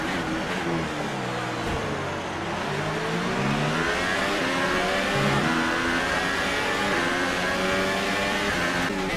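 A Formula One car in the F1 2018 racing game, a Force India powered by a Mercedes engine, revs hard at high pitch, its engine note rising and falling with gear shifts, loud and continuous throughout.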